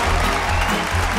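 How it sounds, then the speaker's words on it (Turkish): Audience applause at a Turkish awards ceremony as the best actor winner is called to the stage, a loud, dense wash of clapping heard alone. "Alkışlarınızla."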